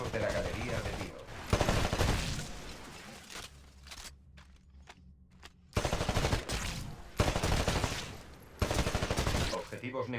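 Bursts of rapid rifle fire crack in several volleys at a shooting gallery in the video game Titanfall, separated by brief quieter gaps with faint mechanical sounds between them.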